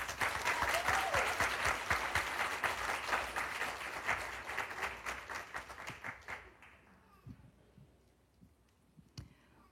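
An audience at a Chesapeake College Phi Theta Kappa ceremony applauds Ms. Claire Kelly, dense clapping that thins out after about six seconds into a few scattered claps.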